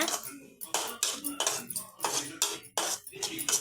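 Cashews sautéed in a pan, with a spoon scraping and stirring in uneven rhythmic strokes, close and moderately loud, while someone talks over the stirring.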